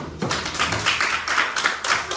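A classroom of students applauds a group that has just presented. Dense, close clapping swells and pulses steadily without a break.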